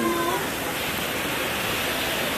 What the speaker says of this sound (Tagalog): Bumabagyo na dito